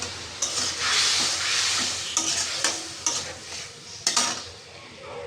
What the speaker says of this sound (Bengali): ওটা আমি কড়াইয়ের মধ্যে দিয়ে দিয়েছি তো এটা আমি ভালো করে কষে নিই